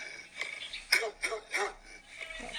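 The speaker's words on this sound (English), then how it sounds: "what I've got is a YouTube video of some dogs barking in repeat." Several dogs bark in a quick series of sharp, mid-pitched woofs, a few close together, with slightly tinny playback quality.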